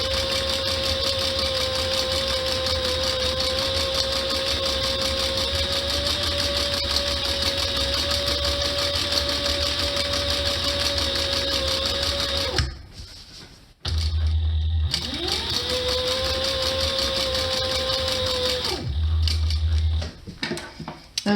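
A sewing machine stitches piping onto an upholstered cushion cover in long, steady, whirring runs. It stops briefly, then resumes for another run before ending, close and loud, with no voices.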